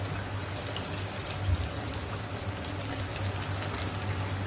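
Water is poured into a pan of achari chicken cooking with pickle masala, giving a steady close trickle and pour over a low hum, with no talk.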